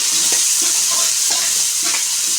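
Chicken pieces fry in a hot pan as a spoon stirs them, giving a loud, steady sizzle with a few soft scraping strokes and no voices.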